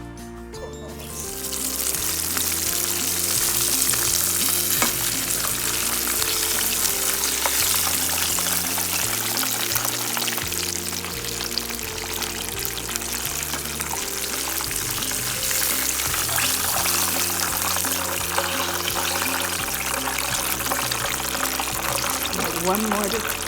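Fish fillets fry in a pan of oil for a Southern fried fish dinner, a constant crackling sizzle after an opening clatter, with scattered pops over the whole stretch and no talking.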